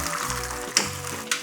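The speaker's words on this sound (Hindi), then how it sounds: "अब हम इसमें डालेंगे अपना मिक्सचर जो हमारा मिल्क एंड सूजी का था" Milk and semolina mixture poured into caramelized sugar and ghee for makhandi halwa, hissing and sizzling steadily up close, with two sharp splashy bursts near the end.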